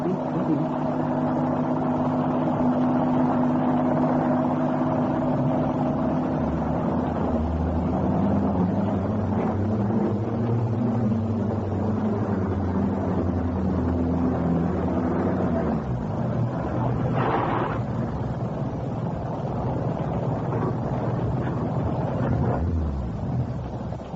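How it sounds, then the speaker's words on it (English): A car engine draws near at night in a radio drama, a steady low rumble with shifting pitch that swells closer, then cuts off near the end, with rain-like hiss in the background. "Somebody's heard the car."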